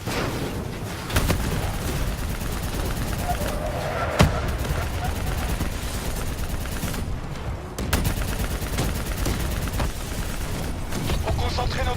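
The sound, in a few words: gunfire at bots in Black Ops 3 video game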